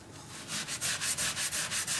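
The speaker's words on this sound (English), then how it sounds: "As well as sanding with a fine grit, which it gives you." Fine Yorkshire grit sanding a wooden piece spinning on a lathe, a rhythmic rasping rub that swells and fades in about ten quick, even strokes, close and fairly loud with no voices.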